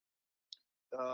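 A single sharp mouse click in a quiet room while selecting EC2 in the AWS console, brief and close, followed moments later by a voice starting to speak.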